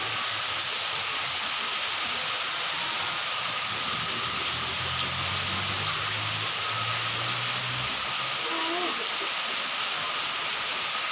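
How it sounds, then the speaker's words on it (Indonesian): Rain falls in a yard at night as a steady, even hiss, with a low voice murmuring briefly partway through. "Hujan."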